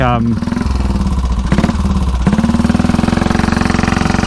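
A 1934 Velocette KTT motorcycle runs close by with a loud, rapid, pulsing engine beat that briefly shifts pitch as it revs, with a voice speaking over the engine.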